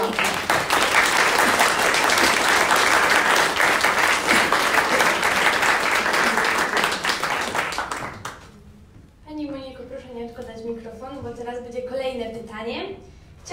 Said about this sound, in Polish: Więc ja proszę jeszcze raz o serdeczne brawa dla Agnieszki i o oklaski.